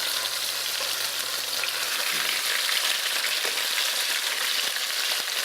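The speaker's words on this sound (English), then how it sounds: "So we are ready to turn chicken over." Browned chicken pieces fry in a pan after being turned, giving a steady, loud, dense sizzle that holds evenly throughout with no talking.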